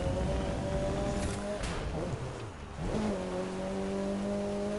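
A car drifting off-road in the video game The Crew 2, its engine revving up and down through gear changes. The drone is loud and continuous, with faint talk underneath.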